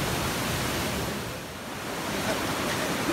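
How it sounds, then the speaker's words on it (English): Fast-flowing creek at a gold prospect with quartz veining, a steady broadband rush of water filling the scene evenly and close by, with no voices. "Pretty fast flowing creek."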